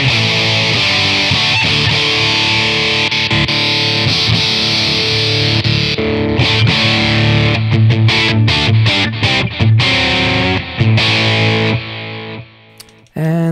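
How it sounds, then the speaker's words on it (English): Heavily distorted electric guitar through a VOX StompLab IG modeling processor on its distortion patch, playing loud sustained chords and riffs with choppy stops near the end before a final decay. "D7 is a distortion."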